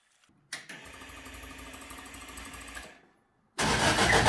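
A Lotus 7 Birkin kit car engine cranks with a sustained starter whir, falls briefly quiet, then bursts into a loud running roar.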